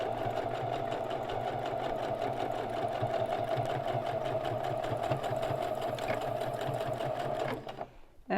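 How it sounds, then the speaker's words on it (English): A sewing machine runs steadily and close, a rapid even mechanical whir while back stitching a binding board, stopping abruptly near the end. "I'm going to back stitch. And my presser foot is running right alongside that board on the inside."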